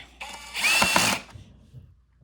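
A power drill whirs in a short burst while driving a screw into a Bissell CleanView vacuum, rising sharply then cutting off, followed by quiet handling noise.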